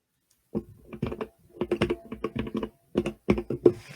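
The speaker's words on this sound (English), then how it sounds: "I can tell what you're typing" Close, crisp keystrokes on a computer keyboard come in quick irregular bursts separated by short silent gaps, with no voices over them.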